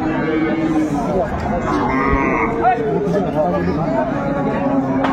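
Sahiwal cows and calves at a busy cattle market, low lowing and animal noise under steady crowd chatter and nearby talking throughout.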